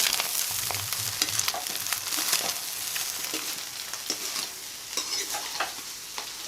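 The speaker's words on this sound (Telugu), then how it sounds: "ఇదిగోండి కొంచెం కొత్తిమీర కూడా వేసేసి ఇప్పుడు కలుపుకోండి." Fried biryani with fresh coriander is stirred in a pan, and a steady sizzle runs under close, repeated scraping and clinking strokes of a spoon.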